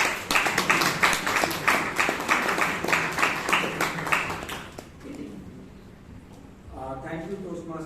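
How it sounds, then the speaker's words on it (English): Audience applause at a Toastmasters club meeting in Bangalore, a dense burst of clapping from a room of people that carries on for about five seconds, then fades and gives way to quieter murmurs and a voice. "you get a great applause"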